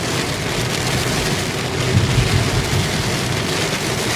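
Heavy rain from Typhoon Crising pours without a break, a dense, loud wash of rainfall drumming on surfaces, with a faint low rumble underneath.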